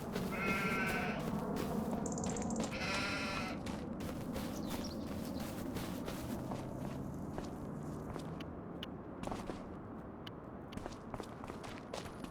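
Sheep bleat in a farming video game, two close wavering calls early on, while crunchy footsteps shuffle steadily through the rest of the clip without any talk.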